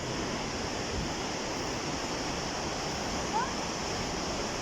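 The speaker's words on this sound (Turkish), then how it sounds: "Burada birkaç tane daha küçük şelaleler var" Steady, dense rushing of water falling at the Kapuzbaşı waterfalls fills the scene, a continuous roar without pause; no clear talk stands out.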